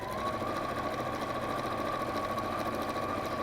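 A domestic sewing machine runs flat out stitching quilting fabric, a steady fast whirring hum held loud and close at the same pace the whole way through, with no talking over it.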